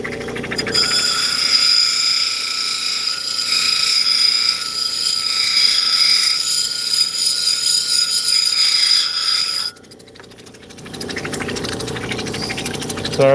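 A lapidary machine cutting and grinding rock such as turquoise, black opal or agate gives a loud, sustained whining drone that drops off briefly near the end and then resumes.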